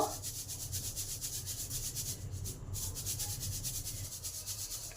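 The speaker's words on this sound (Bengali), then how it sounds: "এবার একটা স্টেনারে করে ভালো করে চেলে নেব" Flattened rice (chira) shaken in a metal strainer makes a quiet, steady, rhythmic rasping rub, with fast regular pulses of grains scraping against the mesh and no talking.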